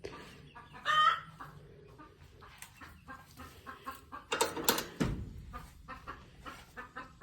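Hens clucking and cackling in a chicken coop, with a burst of louder squawking from a hen laying an egg partway through, amid rustling and scattered movement noises.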